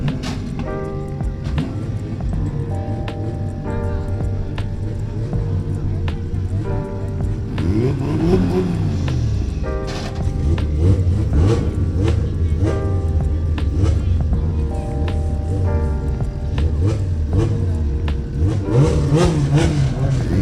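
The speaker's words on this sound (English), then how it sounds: "we have a nitrous B series in the right lane, turbo B series in the left lane." Honda B-series drag cars, one nitrous and one turbocharged, rev hard and accelerate down a drag strip at a race event in Jamaica, loud sustained engine roars rising and falling through repeated gear changes, with crowd noise behind.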